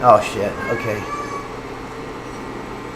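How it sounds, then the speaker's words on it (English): A hungry cat meows loudly and close by a couple of times at the start, then a person speaks briefly over a quiet background. "that's my cat who might be hungry."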